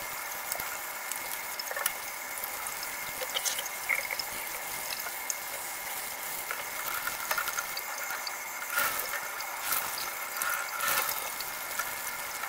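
Running water rinses out tie-dyed fabric, a steady hissing splash with occasional louder gurgles and surges, continuous and moderately close throughout.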